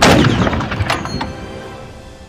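Heavy gunfire in a battle with an SdKfz 251 half-track, a loud opening blast followed by several rapid cracks and booms that fade into a long rumbling decay.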